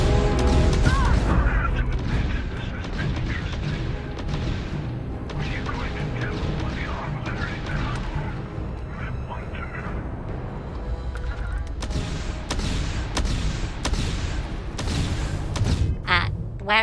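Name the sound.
gunfire and artillery fire in the video game Starfield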